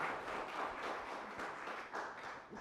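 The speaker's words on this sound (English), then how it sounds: "Please give them a round of applause." Applause from an audience at a university technology road tour event in Puerto Rico, a steady wash of clapping that rises and falls slightly over a few seconds, moderately distant, with no talk over it.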